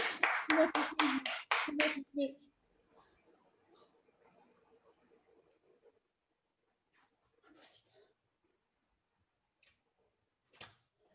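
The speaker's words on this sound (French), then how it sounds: "J'applaudis." A short burst of about seven sharp hand claps from one person, loud and close in an indoor yoga class, followed by quiet room sounds and faint scattered noises.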